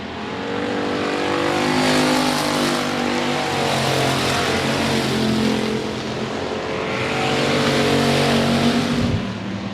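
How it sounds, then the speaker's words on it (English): Race cars roar around the I-37 Speedway oval in a loud, continuous engine drone that swells and fades as the pack sweeps through the turns. "Daniel Preston taking the outside line into turns 1 and 2"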